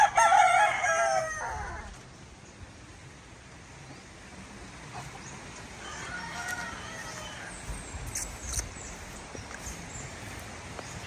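A rooster crows loudly at the start, followed by scattered clucks and calls from chickens over a noisy outdoor background.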